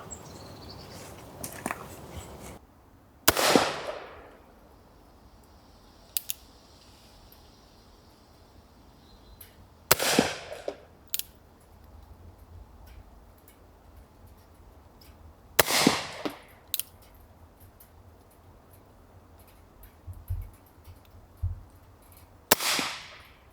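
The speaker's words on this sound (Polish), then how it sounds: "Teraz był jakiś taki słaby strzał" Four loud, sharp shots from a Colt Pocket .31 black powder revolver with a clogged barrel, spaced several seconds apart, each with a brief ringing decay, plus a few quieter clicks and handling noises between shots.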